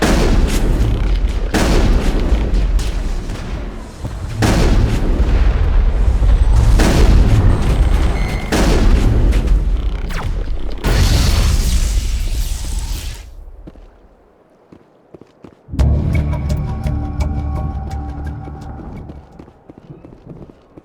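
Gunfire and explosions roll through a crossfire battle in Mass Effect: dense, loud booms and blasts pile up for about thirteen seconds, then a brief lull before sharper rapid shots return.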